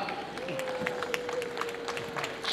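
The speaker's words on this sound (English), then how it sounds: "Can we have a better round of applause for them, please?" Wedding guests in South Africa clap in scattered, fairly light applause, with individual claps audible over a crowd murmur and a sustained tone running underneath; voices mingle throughout.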